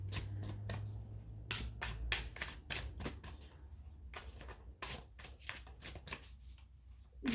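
A deck of True Heart Intuitive Tarot cards is shuffled by hand, crisp riffling bursts repeating in a quick irregular rhythm, close and quiet with no talking.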